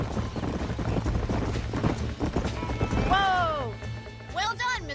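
Horse hooves clip-clopping in Red Dead Redemption, a steady run of close hoof strikes under overlapping talk, ending in a whinnying horse call.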